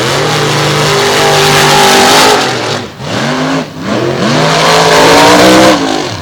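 Drag racing pickup trucks, including a black and green Ford Super Duty, launch and accelerate down a strip, engines roaring loud and rising in pitch, dipping briefly between gear changes before surging again.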